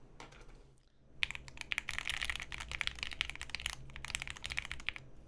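Rapid, dense clacking of a mechanical keyboard fitted with Lil Tyke switches, in a Bepovan build, typed at close range after a brief quiet start and continuing steadily to the end.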